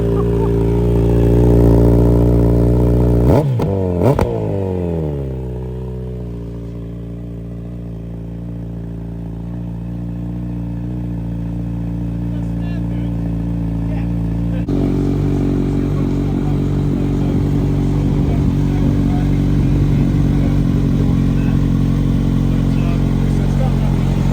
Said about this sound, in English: I've had a full decat exhaust put on it